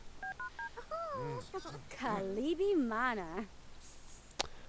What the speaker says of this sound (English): Why'd you walk all the way over there to use the phone?